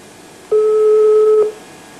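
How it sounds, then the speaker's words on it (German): A single telephone ringing tone sounds during a call on a 1986 German television game show, one steady electronic tone lasting just under a second, heard alone over faint background hiss. "Zweimal lasse ich noch klingeln."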